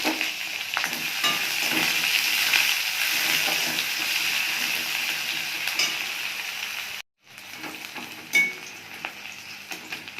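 Chopped onion, added after minced garlic, sizzles and fries steadily in a hot pan with occasional stirring scrapes, briefly cutting out before the loud frying resumes.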